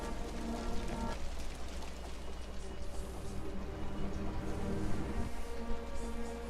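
Rain falls steadily in the video game Wuthering Waves as a soft, quiet patter over faint game ambience and music, with no clear talking.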